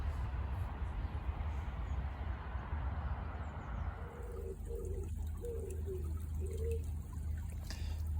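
A small, shallow stream trickles steadily at the foot of its source near a canal town, a soft continuous burble with a few brief louder gurgles toward the end.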